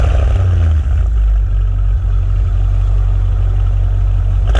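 A Maserati Ghibli Trofeo twin-turbo V8 with exhaust valves open in Corsa mode, heard close and loud as a steady, deep, powerful engine roar that stays constant throughout, with no clear separate blips.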